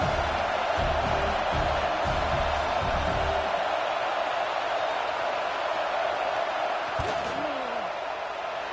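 Football stadium crowd roaring steadily as a kicking unit lines up for a field goal attempt, a dense continuous wash of crowd noise with a few thumps early on, heard from the broadcast perspective.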